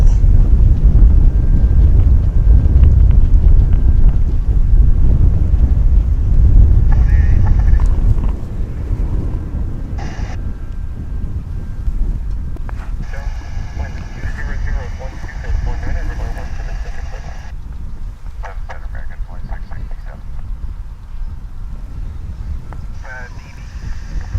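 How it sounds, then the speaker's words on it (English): American Airlines Flight 281 to Seoul, an airliner bound for Seoul, takes off from a DFW runway with a heavy, low roar for several seconds that then eases into a steady, wind-buffeted rumble. "for our final flight of the day on Runway DFW It is this American Flight 281 to Seoul"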